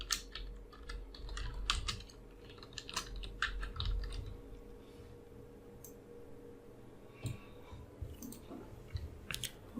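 Typing on a computer keyboard, quiet clustered key clicks in short irregular bursts over a low steady hum, with pauses between runs.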